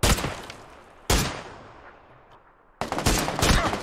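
Sharp PUBG gunfire: two loud shots at the start and near the middle of the fight, a quieter gap, then another burst of close shots at the end, each with a ringing tail.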